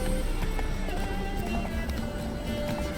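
Roach, Geralt's horse in The Witcher 3, gallops with a steady, quick clip-clop of hooves under the game's music and ambience, close and moderately loud.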